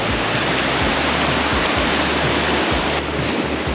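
Creek water rushing steadily along a Colorado gravel climb, a loud, continuous broadband wash with no voices, low rumbles pulsing faintly underneath throughout.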